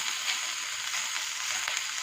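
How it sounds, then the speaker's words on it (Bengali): Chicken pieces sizzle and fry in a pan for a chicken salad, cooking in their own released water; a dense, even hiss runs continuously at close range with no talking. "চিকেনটা ভাজা ভাজা হয়ে গেছে প্রায়।"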